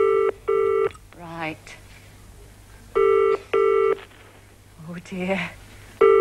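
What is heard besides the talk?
telephone ringing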